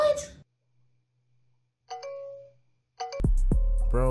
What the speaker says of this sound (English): On the Ring camera ringing the doorbell saying, let me in, bro.